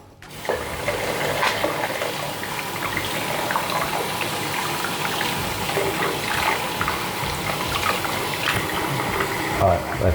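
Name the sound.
shaver heads rinsed under running tap water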